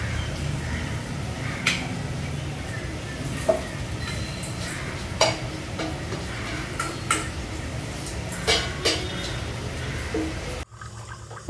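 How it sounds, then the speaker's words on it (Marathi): A spoon stirs mixed dals and rice in a pot for high-protein khichadi, giving soft scrapes and occasional light clinks against the metal over a steady low background hiss. "सगळ्या मिक्स डाळी आणि तांदूळ टाकलेले आहे, ते प्रॉपर मिक्स करून घ्यायचं आहे"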